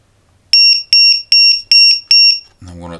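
A cheap battery cell voltage monitor module beeps for an under-voltage cell: five sharp, loud, evenly spaced double beeps ring out close by, then stop as a low hum or rumble comes in.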